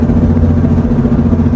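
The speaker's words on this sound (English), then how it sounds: "My suspension sounds like this." A car with worn suspension, bad wheel bearings, ball joints, control arms and tie rods, makes a loud, steady droning hum and rumble while moving, lasting under two seconds before cutting off.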